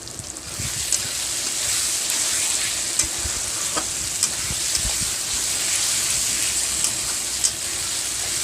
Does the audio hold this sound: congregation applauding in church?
no